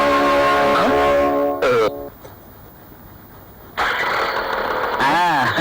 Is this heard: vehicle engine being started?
yes